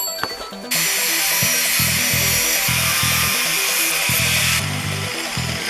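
A power tool cuts a metal tab for a battery tie-down, with a loud, sustained high whine and a rhythmic, pulsing grind underneath that continues for several seconds before easing off.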